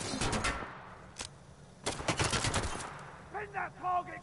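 Bursts of automatic gunfire from a video game played on Master difficulty, loud and close in short volleys, with a pause in the middle and brief tonal game sounds near the end; no one speaks over it.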